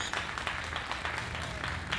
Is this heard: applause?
yes